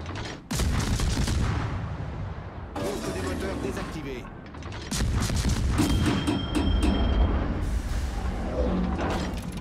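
Naval guns on the French destroyer Le Fantasque boom in heavy salvos from a warship battle game, loud and close, with mechanical clatter and a constant rumble of sea and engines between the bursts.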